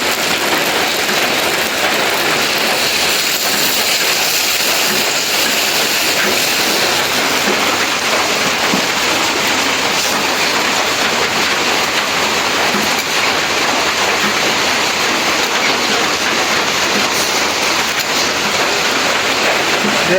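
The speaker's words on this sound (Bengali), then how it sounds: "আষাঢ় মাসের মতন বৃষ্টি নামা শুরু হয়েছে" Heavy monsoon rain pours down in a dense, unbroken roar, loud and constant for the whole stretch, with no voices.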